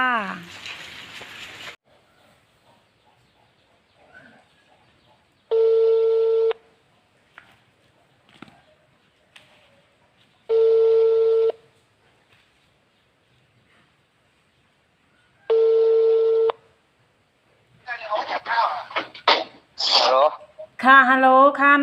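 A phone call rings out while dialing: three long ringback tones, each about a second, spaced roughly five seconds apart with quiet between. A voice speaks before the rings and talk resumes after them.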